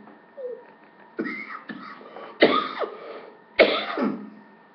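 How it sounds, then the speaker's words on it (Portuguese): Someone clears their throat several times up close, rough raspy bursts separated by short pauses. "o pigarro é a poluição de São Paulo"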